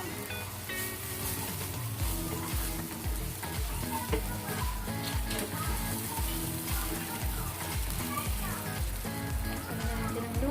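Chopped garlic sautés in hot oil in a pan for a pork and green mustard stir fry, giving a steady, dense sizzle that runs loud and unbroken throughout, with faint stirring beneath.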